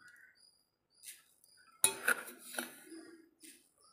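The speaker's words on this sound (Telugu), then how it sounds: "పంచదార వేస్తున్నానండి" Metal cutlery clinks against a plate as sugar is spooned out to go with a breakfast tiffin, a few bright, close chinks and scrapes separated by near silence.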